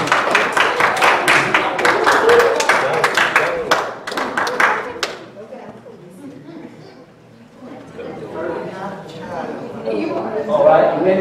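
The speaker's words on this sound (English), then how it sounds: "If you can clap your hand, that's what you need to do." Church congregation clapping at a Baptist Sunday morning service, several seconds of loud, rhythmic hand claps that stop abruptly, then the room settles into a quieter crowd murmur.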